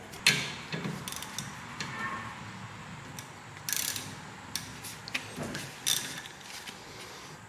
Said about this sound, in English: let's go ahead and get this bottom bolt broke loose and swing this caliper up.